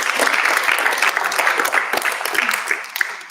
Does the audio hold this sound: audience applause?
yes